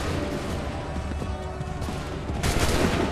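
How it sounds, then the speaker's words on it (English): A musket volley booms out in Assassin's Creed 3, a dense crackle of many shots layered over battlefield rumble, loud and close, swelling sharply near the end. "Wait for the signal. Fire now!"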